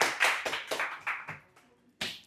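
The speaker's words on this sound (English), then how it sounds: "Huge applause." Brief burst of hand claps from an audience at a tech meetup as the last talk is introduced, fairly faint and sparse with distinct individual slaps, fading to quiet before one more clap at the end.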